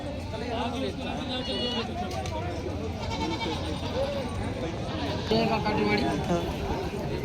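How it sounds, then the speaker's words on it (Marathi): A pregnant Katewadi goat bleats repeatedly at the busy Parbhani goat market, its wavering cries close and clear amid constant talk and crowd noise. "काटेवाडी गाभण शेळी आहे मित्रांनो, बाजारामध्ये आज परभणीच्या बाजारामध्ये आलेली आहे."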